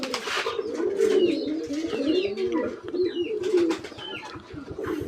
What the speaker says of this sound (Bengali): আর এই কবুতরটা আমার খুব পছন্দের এক জোড়া কবুতর